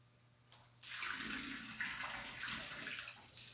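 Water pours into a tipping bird fountain, a close, steady splashing stream that starts abruptly after a quiet moment and runs on with slight surges.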